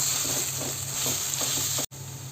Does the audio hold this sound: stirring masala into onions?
yes